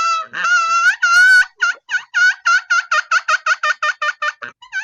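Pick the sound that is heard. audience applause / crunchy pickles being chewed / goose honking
goose honking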